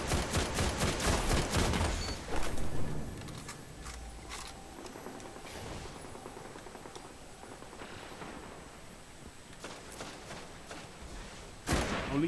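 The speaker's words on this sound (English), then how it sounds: "this gun's rate of fire is really high" Rapid automatic gunfire from a weapon with a very high rate of fire in the video game Destiny, loud dense bursts at the start and again near the end, with quieter game noise between.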